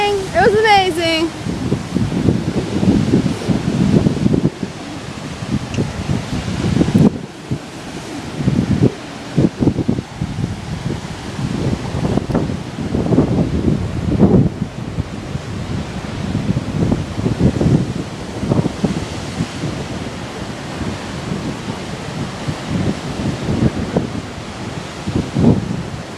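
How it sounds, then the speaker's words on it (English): Big ocean waves crash repeatedly with heavy wind buffeting the microphone, loud and close, in rolling surges with brief lulls between. "Look at these waves coming!"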